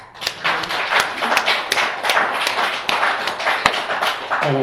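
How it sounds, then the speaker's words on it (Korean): A church congregation breaks into applause during a Sunday sermon, a lively crowd of hands clapping loudly and steadily with some sharper individual claps standing out, continuing throughout. "우리를 구원하신 하나님께 영광의 박수 돌립시다"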